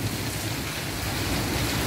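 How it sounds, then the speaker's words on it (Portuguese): Heavy rain pours steadily, a dense, continuous hiss of water striking surfaces close by, with no voices. "muita chuva."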